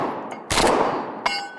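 A semi-auto bullpup shotgun fires at a Texas Star steel plate target, giving one loud close blast followed by a sharp metallic clang of a plate hit, with no talk.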